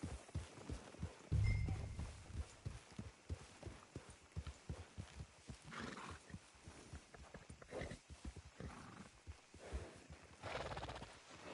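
A black Arabian horse in Red Dead Redemption 2 clops along in a steady rhythmic gait, hooves thudding close and clear, with an occasional snort and whinny over the hoofbeats.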